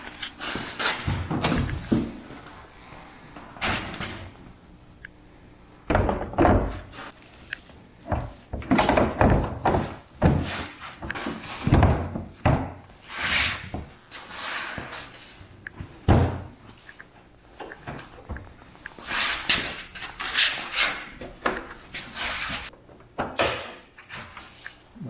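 Cargo box link connector latching on a 2023 Ski-Doo Expedition snowmobile, a series of loud close plastic clunks, snaps and thuds as parts are lifted and locked down, with no talking.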